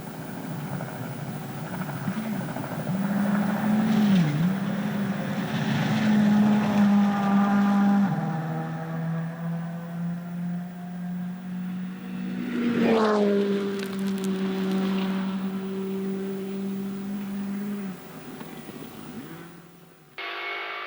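A rally car races along a fast tarmac section toward the stage finish, its engine note rising and falling through gear changes, swelling loud as it sweeps past and then fading away.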